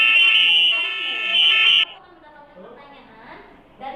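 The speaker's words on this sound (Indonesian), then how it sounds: "Oke, itu suara klakson mobil." A loud, sustained car horn blares for about two seconds, then cuts off, followed by quieter background sounds and a short final burst.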